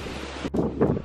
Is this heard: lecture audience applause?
no